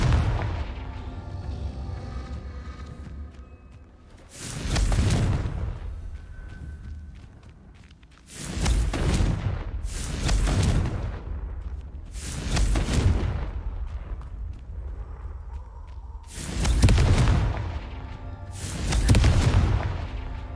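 Repeated fire-spell explosions in the Hogwarts Legacy video game come as six heavy booming blasts spaced a few seconds apart. Each hits loud and close, and a fainter rumble and movement sounds fill the gaps between them.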